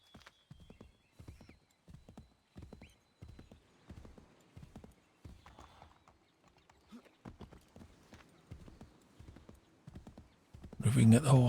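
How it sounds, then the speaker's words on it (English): Horse hooves clip-clopping in Assassin's Creed III Remastered, a steady run of crisp hoofbeats in regular rhythm, with a louder burst of activity near the end. "Clippity clop."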